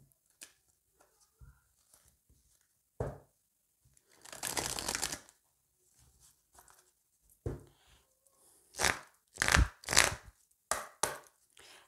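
Tarot cards being shuffled by hand in a quiet room: scattered light taps and riffles, then a sustained burst of shuffling, followed by several sharp, close riffles and bridges in quick succession, with no talking.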